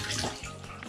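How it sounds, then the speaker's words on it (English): Excess water is squeezed out of a wet plush toy cat, a short, close, gurgling trickle of dripping water lasting under a second. "Squeeze the excess water out."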